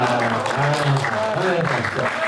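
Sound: audience applause at a ghazal concert

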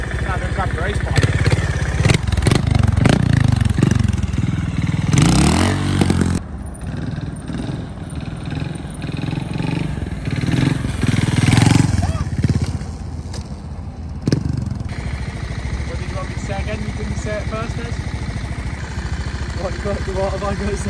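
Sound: Honda race motorcycle engine running

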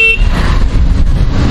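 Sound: horn of Hero Electric Optima electric scooter

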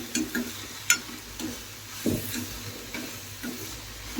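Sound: onions frying (sautéing) in a pan

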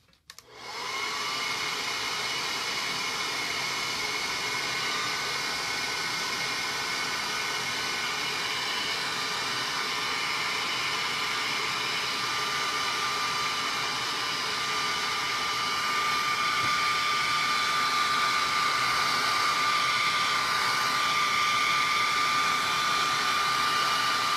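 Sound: hair dryer drying decoupage work

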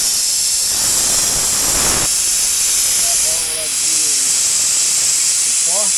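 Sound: compressed air hissing from truck brake air lines

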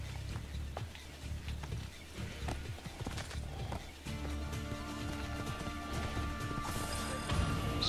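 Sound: horse hooves galloping in a video game

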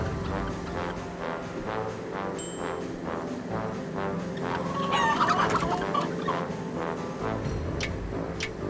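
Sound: chickens clucking in the video game Wallace & Gromit: Muzzled!

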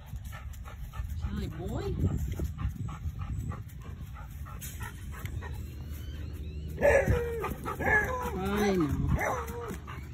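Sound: beagles barking and whimpering

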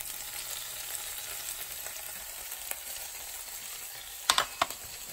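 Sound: stir-frying squid with scallions for kimchi fried rice

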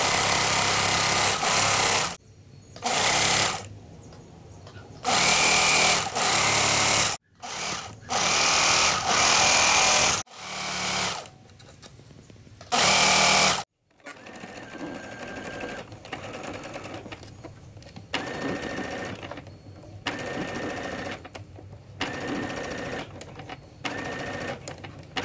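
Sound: sewing machine stitching panty seams

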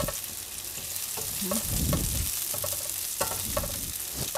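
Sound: sautéing ingredients in a pan

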